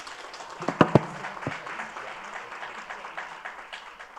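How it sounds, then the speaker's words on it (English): Audience at a school honor roll ceremony giving a round of applause, a soft, steady patter of many hands heard from some distance, with a few sharper claps near the start. "Another round of applause"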